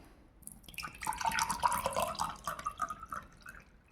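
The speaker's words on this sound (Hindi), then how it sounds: "अब हम लोग इस ग्लास में पानी लेंगे।" Water pours into a transparent glass for a classroom sedimentation experiment, a close trickling and splashing fill that rises after a quiet start and runs for a few seconds, with faint drips as it tapers off.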